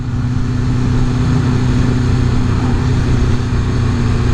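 Steady, loud engine drone from a motorcycle while riding, a constant low rumble mixed with wind noise and no talking.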